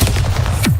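A quick burst of the Bombarda blasting spell in the Hogwarts Legacy video game, rapid crackling impacts ending in a loud, sharp blast, close and brief.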